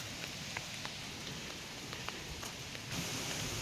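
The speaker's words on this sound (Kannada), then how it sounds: "ಇದ್ದಕ್ಕಿದ್ದಂಗೆ ಮಳೆ ಜಾಸ್ತಿ ಆಯಿತು" Heavy rain pours in a garden plantation, a dense, steady hiss of drops striking leaves and ground, with a few sharper drops standing out.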